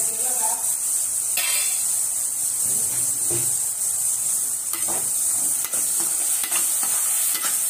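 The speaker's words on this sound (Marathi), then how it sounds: "तर वाटलेला मसाला मी त्यात ऍड केला। आता ते चांगला भाजून घेऊ।" Ground wet masala roasting in a pan for masala bhaat, a constant bright hiss and sizzle with repeated stirring scrapes and taps of the spoon, close by, with a voice in the background.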